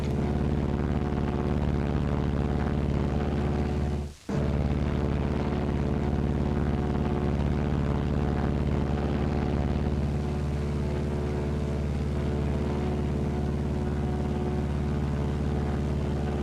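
A Martin B-26 Marauder flying on a single engine gives a steady, heavy droning hum with strong low harmonics, broken once by a brief dropout before the drone resumes unchanged.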